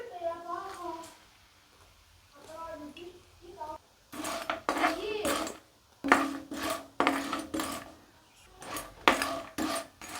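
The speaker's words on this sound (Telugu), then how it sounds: "ఈ బెల్లం కరిగేలాగా ఇలా తిప్పుకుంటూ కరిగించండి" Organic jaggery melts in a pan with a little water as a spoon stirs it, giving repeated clanking, scraping strokes against the metal after a stretch of someone talking, with brief pauses between bursts.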